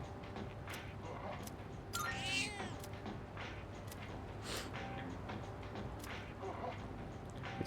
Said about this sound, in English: Its purring seems more energetic than it did last time.